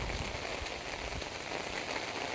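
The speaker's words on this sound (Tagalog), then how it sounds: "bumuhusan naman yung ulan. Super duper na lakas ng ulan." Heavy rain from a typhoon pours down steadily in a dense, continuous hiss with no voices.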